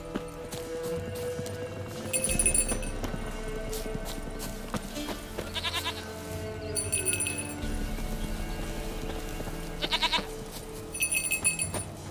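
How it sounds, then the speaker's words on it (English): A goat bleats in The Witcher 3: Wild Hunt, its calls rising in short bursts over steady game ambience and clopping hooves, with no speech. "Stupid fucking goat."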